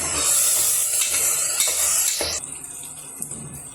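Ground masala paste frying in a pan for mushroom biryani, a loud, steady sizzle with scraping stirs and a few utensil clinks, easing off a little near the end.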